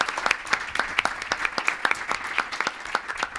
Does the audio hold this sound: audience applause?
yes